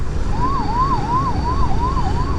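A wailing ambulance siren rises and falls in a steady repeating sweep over a constant rumble of traffic on a road in Tamil Nadu, fairly loud and close.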